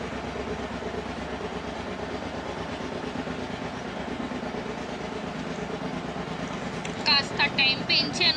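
Deep, continuous rumble of a train engine running on the rails, with a steady rhythmic rolling texture, joined near the end by brief higher clicking sounds.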